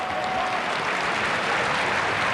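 Rugby league crowd at a 1991 Canberra Raiders versus Parramatta Eels match cheering and applauding, a steady broadband roar of clapping and voices filling the whole stretch at an even, sustained level.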